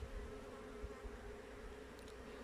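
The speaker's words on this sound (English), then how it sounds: "There's a lot of foraging bees on this" Honey bees around a small hive make a faint, continuous buzzing hum as they fly nearby, with no talk.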